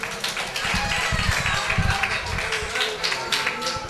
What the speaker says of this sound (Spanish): Un fuerte aplauso y comenzamos.